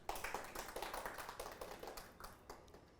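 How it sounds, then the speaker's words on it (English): A small group claps in a quick, uneven patter that fades gradually over about three seconds. The claps are fairly close but faint, and no one speaks. "please clap for yourselves"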